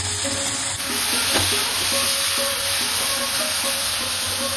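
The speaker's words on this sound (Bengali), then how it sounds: "পেঁয়াজটা ভাজা হয়ে গেছে, এবার এতে দিয়ে দেবো মেখে রাখা কচুরলতি" Loud, steady sizzling as marinated taro stolons (kachur lati) hit fried onions in a hot pan, with a continuous hiss and faint rhythmic stirring scrapes.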